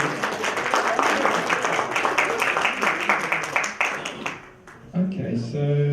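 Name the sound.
audience applause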